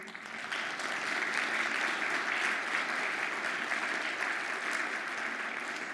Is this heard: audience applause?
yes